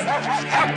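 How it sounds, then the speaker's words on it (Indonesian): Hunting dogs give a short burst of yipping barks, loud and close, packed into under a second. "anjing-anjing pemburu tersebut menggonggong kepada Mardian semua"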